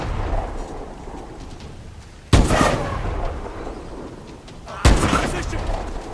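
Two sharp, loud bursts of gunfire from the Call of Duty: Advanced Warfare video game, the first at about two seconds and the second near five seconds, each trailing off into a noisy, rumbling battlefield bed.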